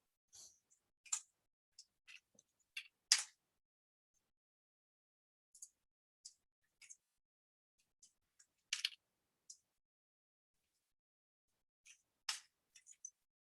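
Someone types on a computer keyboard in short bursts of crisp key clicks, with pauses of silence between the clusters. The clicks are close and fairly quiet, and the surroundings are otherwise still.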